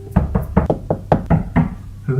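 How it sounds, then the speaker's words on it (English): Several sharp knocks on wood in an uneven rhythm, close and loud, with no speech. "Knock on wood."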